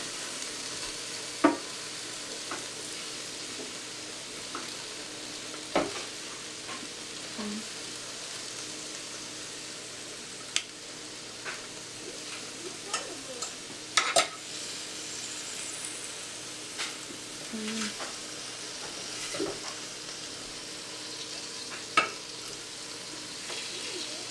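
Steak kabobs sizzling on a Ninja Foodi grill, a soft steady sizzle throughout, broken by occasional clicks and clatters of tongs, with a person's voice talking faintly at times.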